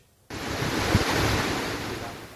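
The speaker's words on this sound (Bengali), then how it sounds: "রিমালের তাণ্ডবে ব্যাপক ঝড় বৃষ্টি হয়" Strong cyclone Remal winds and surf batter the coast, a loud, steady roar of gusting wind and crashing waves with heavy microphone buffeting that starts abruptly and stays dense throughout, with no voices.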